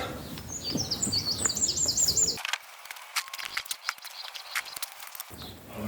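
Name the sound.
birdsong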